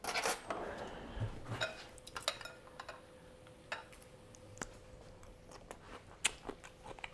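Close, crisp crunching of a roasted vegetable being chewed during a charcuterie board tasting, heard as irregular bites mixed with light clinks of cutlery and dishes, with no talking.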